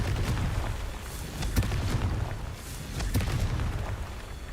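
Confringo explosion spells in Hogwarts Legacy, cast again and again: repeated sharp, booming blasts land about every second, loud and close over a steady rumbling background.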